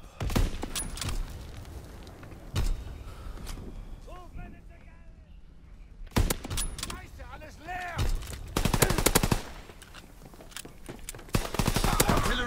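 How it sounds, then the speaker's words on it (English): Gunfire and heavy naval bombardment blasts in the World War II shooter Call of Duty WWII come in loud scattered bursts and rapid volleys. In-game radio voices speak between the shots. "Firing primary battery. Target position confirmed."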